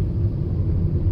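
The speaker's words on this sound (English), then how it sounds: "And now you can hear I still drive in EV mode." A 2016 Toyota Yaris Hybrid drives on electric power, with a steady low road and tyre rumble and a soft hum inside the cabin and no engine note, over about a second.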